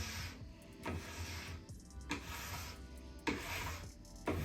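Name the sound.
plastic scraper scraping wax off a snowboard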